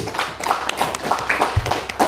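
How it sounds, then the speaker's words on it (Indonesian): An audience at a book launch event in Samosir claps in scattered, uneven bursts, the slaps fairly close and moderately loud, with no voice over them. "Tepuk tangan dulu."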